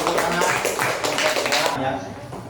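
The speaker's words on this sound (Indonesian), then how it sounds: "Beri tepuk tangan." A classroom of students claps together in a brief burst of applause that fades near the end, with voices mixed in.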